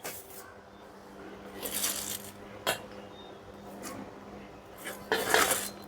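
Chopped cabbage is tipped into a pan of chana dal curry, giving a few clinks and rustling scrapes against the metal, quiet apart from a louder clatter near the end.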